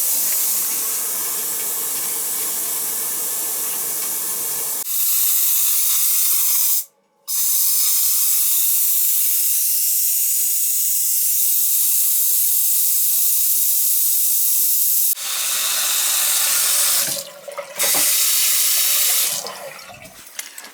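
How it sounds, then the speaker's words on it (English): Water and trapped air are bled from gas boiler heating lines: a loud, steady rushing spray with hissing that cuts out briefly and then sputters irregularly near the end. "Yeah, I'm bleeding all the air out now."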